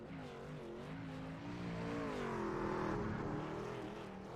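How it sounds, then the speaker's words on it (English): Race car engines roar in a sustained, steady drone during burnouts at Martinsville, with wavering pitch as the revs climb and settle. The sound is continuous and fairly distant, and no voices are heard. "We'll watch the burnouts here from Griffin"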